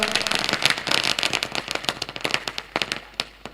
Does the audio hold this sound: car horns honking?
no